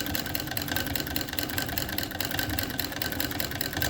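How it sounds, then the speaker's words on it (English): White treadle sewing machine stitching steadily, a continuous dense mechanical whir with a fast, even rhythm at close range, moderately loud and without pauses or talk. "And now I'm off away to the races. And I am just stitching along."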